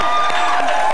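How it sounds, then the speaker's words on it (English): A studio audience on the 1990 Illinois Lottery $100,000 Fortune Hunt television game show claps and cheers loudly and continuously for a winner, in a dense, unbroken wash of applause. "Give her a round of applause, ladies and gentlemen"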